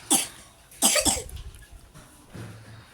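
Two sharp, close coughs in quick succession, followed by a quieter throat sound and faint background noise.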